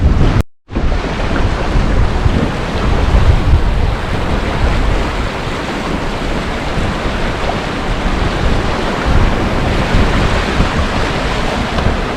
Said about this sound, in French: Et puis des vagues.